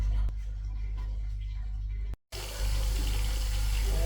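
Running tap water splashing steadily while tilapia fish are washed in a sink, briefly cut off for a moment and then resuming in a louder, fuller gush.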